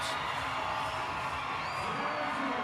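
Stadium crowd at a Banana Ball game in Nashville cheering and whooping in a steady, broad roar that holds for a couple of seconds, with scattered shouts rising out of the mass.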